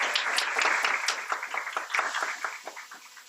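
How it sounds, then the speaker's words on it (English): Brief audience applause at a university welcome ceremony: a short burst of many hands clapping, close and fairly loud, easing off slightly within a few seconds. "Let us pause and clap for Barbara Smith."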